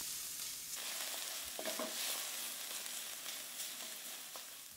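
Oil sizzles steadily in a saucepan as shallots and minced garlic fry in olive oil, with occasional stirring scrapes, a close, continuous frying hiss.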